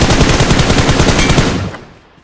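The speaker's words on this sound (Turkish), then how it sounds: "Samet vur şunu" Gunfire in a team shooter video game: a loud, rapid automatic burst roars for about a second and a half, then fades out. No voices are heard over it.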